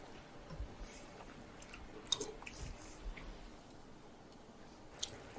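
Someone chews a bite of steak au poivre, giving quiet, close, soft squishing and biting sounds in irregular bursts over a faint background.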